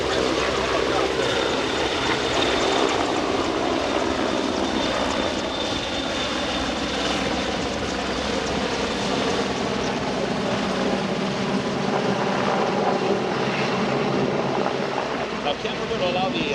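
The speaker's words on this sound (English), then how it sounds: "the crew of the CH-149 Cormorant Search and Rescue Helicopter" CH-149 Cormorant search and rescue helicopter performing a demonstration at an airshow in Abbotsford, British Columbia, its engines and rotors roaring loudly and steadily throughout with a constant broadband drone, some faint speech mixed in.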